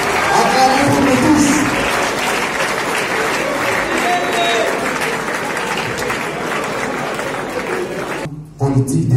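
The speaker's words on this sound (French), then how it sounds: "levons-nous pour nous acclamer" Crowd at a political rally in the Democratic Republic of Congo applauding and cheering, a loud sustained roar of clapping that fades slightly before cutting off near the end.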